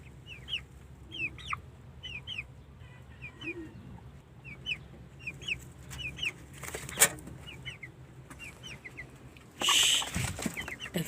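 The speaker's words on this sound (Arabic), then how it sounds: "دلوقتي معانا الفراخ ديت اهيت" Chickens on a rooftop coop cluck in soft, scattered bursts, with a louder flurry of clucking and squawking near the end.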